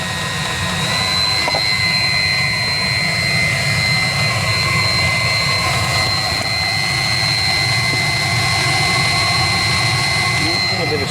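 A loud, steady mechanical drone with a high whine from a Chinese diesel water heater's fan and combustion running continuously up close.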